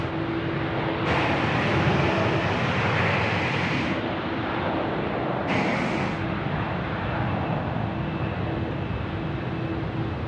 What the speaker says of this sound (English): The all red Air Asia X now, and rolling hard and fast down the main runway